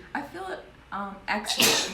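A woman sneezes once, sharp and close, at the end of a short stretch of conversational speech in an indoor podcast setting.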